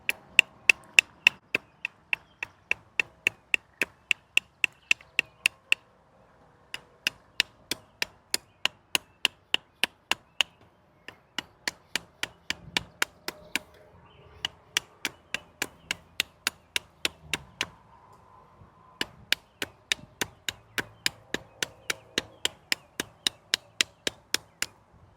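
Eafengrow EF141 fixed-blade full-tang combat knife shaving a wooden stick just over an inch thick, a long run of sharp, rhythmic strokes in quick bursts separated by brief pauses.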